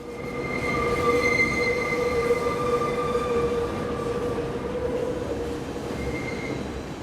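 Urban sounds from the opening credits of Ozon's film Le Refuge: a train rumbles along the rails with sustained, shrill wheel squeal riding over the steady roar, loud and close throughout, with no voices.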